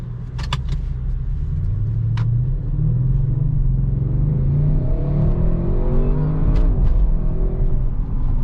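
A 2021 Audi RS6 Avant accelerates hard, its deep rumble building into a rising, strengthening engine note near the end, loud and close with a few faint clicks early on.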